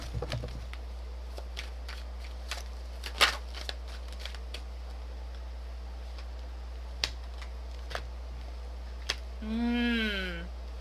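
Tarot cards shuffled by hand in a quiet room: scattered soft flicks and snaps of cards, a few sharper riffles, then a brief rising-falling tone near the end over a low steady hum.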